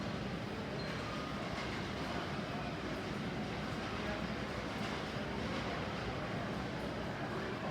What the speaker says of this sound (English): see a train coming. We got a railroad right here.